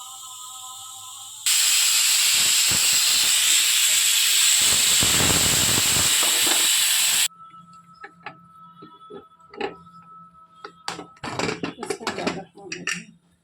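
A loud, steady hiss of steam rushes from a pressure cooker of lentils for several seconds, then cuts off, leaving quieter kitchen clinks and rattles.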